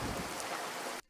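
Heavy rain used as a sound effect in a Hindi story, a dense, steady loud downpour hiss that cuts off abruptly near the end.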